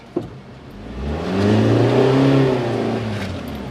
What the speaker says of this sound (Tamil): கொஞ்சம் என்ஜின் வந்து ரைஸ் ஆனாலும் பரவாயில்ல.